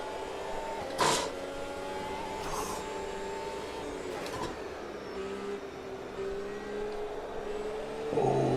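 Formula 1 car engine in the Automobilista 2 racing video game, a steady droning engine tone with gear-shift-like pitch changes and a few brief louder bursts, sustained at moderate level throughout without speech.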